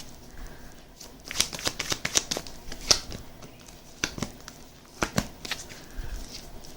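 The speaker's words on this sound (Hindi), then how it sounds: "5 कार्ड निकाल लेते हैं, ठीक है।" Tarot cards are shuffled and drawn by hand, giving close, crisp riffling bursts and sharp flicks in uneven clusters, with no one talking over them.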